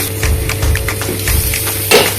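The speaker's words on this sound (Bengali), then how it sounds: "লাল করে ভেজে নেব" Vegetables for shukto, a Bengali dish, fry and get stirred in a pan with ginger and chilli, a soft sizzle under repeated scraping and clinks of a utensil against the pan, close and without talk.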